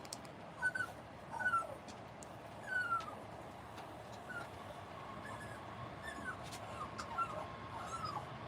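Dogs whimper and yip in a series of short, high, whining cries over a dull background, fairly close but not loud, with a few sharper yelps toward the end.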